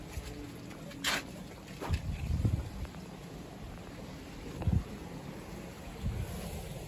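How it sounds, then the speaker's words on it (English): Gusty wind buffeting the microphone, a continuous rumbling roar with stronger bursts now and then, and no voices. "So windy."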